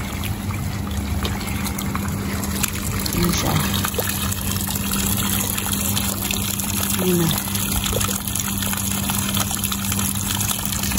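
Water trickles and gushes continuously off a roof toward a drain, a steady liquid rush under a low electrical hum, with brief talking partway through.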